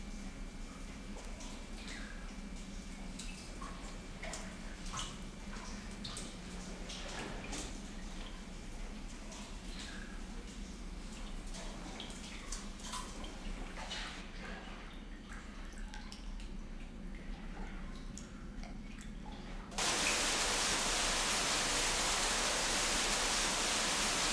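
Dripping water and a rushing waterfall inside a humid undeveloped cave, scattered drips over a constant broad roar that grows louder and fuller toward the end.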